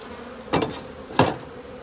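Honeybees disturbed during a spring beehive inspection make two short, close buzzing bursts as single insects fly past, with quiet between them.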